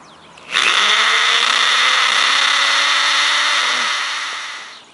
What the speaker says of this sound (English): start at the top hole and drill your 1/4 inch hole